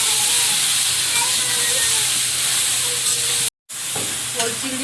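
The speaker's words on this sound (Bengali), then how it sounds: "চিংড়ি তো একটু অল্প করে ভাজা হয় বেশি ভাজি না" Steady sizzling and crackle of prawns and elephant foot yam frying in a hot pan, with faint stirring scrapes throughout and a brief silent gap near the end.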